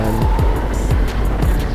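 A racing kart engine during a kart race at Team Sport Warrington, a loud continuous buzzing drone with rising and falling pitch sweeps as the kart accelerates and changes speed, close up.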